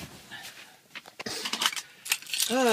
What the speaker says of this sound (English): Brand new keys and remote.